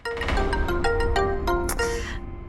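A phone rings in a domestic drama scene, a repeating electronic ringtone melody with steady tonal notes over faint background, lasting the whole stretch.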